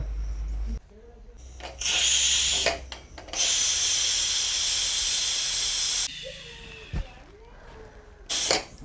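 A pressure cooker whistle in a home kitchen lets off two loud, hissing steam blasts, a short one and then a longer sustained shriek. Brief voices and household noises surround the bursts.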